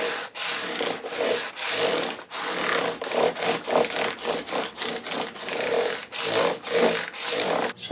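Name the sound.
sanding PRS guitar frets with 600 grit abrasive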